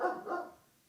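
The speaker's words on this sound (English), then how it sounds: "Let me let Riddick finish barking." A dog barks two quick times close by, each bark loud and sharp, the second followed by a short fading tail, with no one talking over it.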